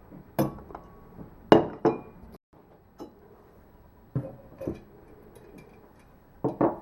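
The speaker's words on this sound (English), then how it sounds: "I'm going to just attach this votive candle holder to this glass plate" Glass votive candle holder set down on a glass plate while assembling a garden art totem, giving several sharp, close glassy clinks in scattered pairs with quiet pauses between.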